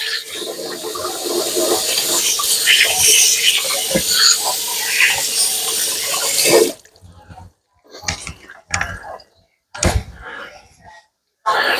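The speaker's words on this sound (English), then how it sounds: "Wash my hands here." Running water from a kitchen sink tap while hands are washed, a steady broad wash lasting several seconds before it cuts off, followed by brief clatters and rustles in a quiet kitchen.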